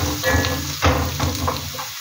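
Onion and green pepper sizzle steadily in a pan over medium heat, caramelizing for a coconut fish curry; a close, continuous frying hiss with a few louder crackles and stirring scrapes, with no talk.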